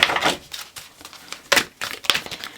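A deck of tarot cards being shuffled, with irregular papery riffles and slaps in short bursts, close and moderately loud, no talking.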